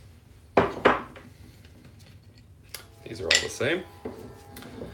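Metal brake discs for a Mini Cooper clank and scrape as they are handled in a garage, with two sharp clanks early, then a cluster of rattling metal knocks, while a person speaks briefly.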